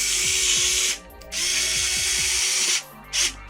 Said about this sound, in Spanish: Y ahora lo vamos a sujetar con 4 tornillos de color negro que vienen en el pack.